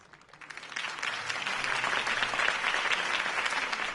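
Applause swells up from a quiet start into a dense, sustained wash of clapping from a large crowd, holding steady to the end.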